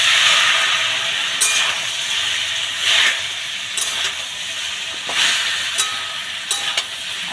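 Chalta fruit going into hot mustard oil with a dried red chilli gives a loud, steady sizzle and hiss, with several sharper bursts of crackle spread through it, heard close and alone.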